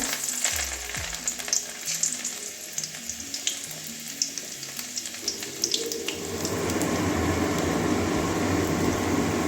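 Dried red chillies and chopped garlic fry in hot oil for a Bengali snail and water spinach curry, giving a steady close sizzle with scattered stirring clatter, growing denser and louder in the last few seconds.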